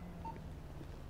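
Short electronic keypad beeps from a phone entering a number in the video game GTA 5, quiet and brief against a steady low game background hum.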